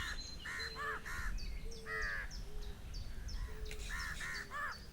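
New Caledonian crow calls in a forest of New Caledonia, several harsh caws in short bursts of two or three, fairly close and loud, with other birds chirping faintly in the background.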